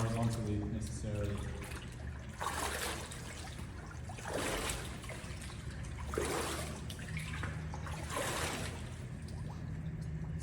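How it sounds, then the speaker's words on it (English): Water in a hot tub is stirred by hand, giving soft swishing and sloshing surges in several waves, faint and close, with a low background hum and no clear talk. "So that's just giving that a good stir, and we keep the lid on."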